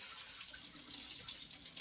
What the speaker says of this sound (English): We're going to run them under some cold water.